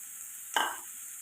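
Ridge gourd pieces and soaked moong dal drop into a hot pan with fried onions, giving one brief burst of sizzle that fades within a fraction of a second against quiet background hiss.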